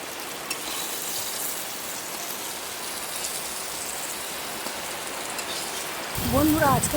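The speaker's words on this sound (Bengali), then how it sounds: "প্রচণ্ড বৃষ্টি হচ্ছে" Heavy rain pours down steadily, a dense continuous hiss that stays even throughout, with a brief louder clatter or splash near the end.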